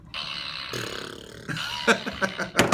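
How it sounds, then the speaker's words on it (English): A toy noisemaker gives a burst of raspy, sputtering fart noise, then a few shorter blurts and bursts close to the mic, with a laugh-like sound at the end. "Isn't there a fart sound?"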